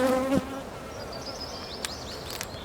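Honey bees from a hive being split buzz in a steady, moderately close drone, with a few brief louder passes of individual bees and a short knock or tap early on.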